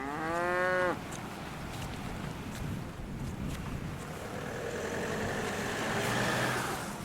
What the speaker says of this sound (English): joining them on the beach, are a wee herd of cows